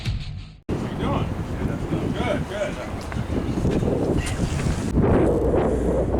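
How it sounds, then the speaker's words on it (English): Strong wind buffets the microphone in a constant low roar aboard a boat on a sea trial, with a brief dropout near the start and gusts swelling louder toward the end. "A little windy."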